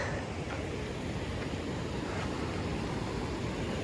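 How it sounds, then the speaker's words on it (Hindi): Fast-flowing mountain river beside the Leh Ladakh road, a dense unbroken roar of rushing water mixed with wind buffeting the microphone, loud and close. "और इन नदियों की जो आवाज़ है ना, उसका भी एक अलग ही वॉइस आती है"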